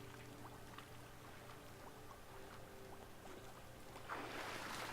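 Wading through water in The Witcher 3 video game comes through as soft sloshing and splashing under a low steady hum, with a louder wash of water near the end.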